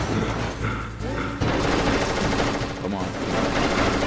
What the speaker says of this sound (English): you can even hear when the frame rate just chops down because his gunfire becomes slower and slower